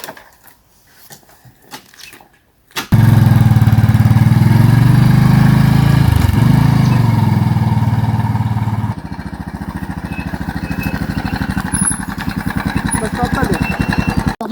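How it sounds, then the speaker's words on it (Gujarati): Motorcycle engine kicks on after a few seconds of quiet shuffling, then holds a loud, close, steady drone that drops slightly in pitch midway as the bike moves off and keeps rumbling to the end. "બેસો બાઈક ઉપર. ચાલુ કરો હેડો."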